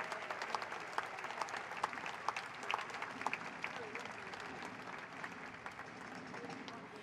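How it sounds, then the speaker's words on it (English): A crowd claps steadily for several seconds at an outdoor July 4th Declaration of Independence reading ceremony, a sustained patter of many hands, fairly distant and even, with a voice faintly under it. "Let's give another round of applause to Caleb Green and the Color Guard."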